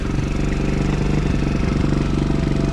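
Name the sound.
pit bike moped engine idling after warm-up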